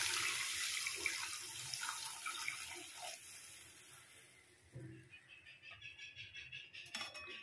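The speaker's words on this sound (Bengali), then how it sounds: "এবার দিয়ে দিচ্ছি জল পরিমাণ মতো।" Water is poured into a pan of egg curry, a soft splashing trickle that fades over several seconds, followed by light clinks and stirring sounds, all fairly quiet and close.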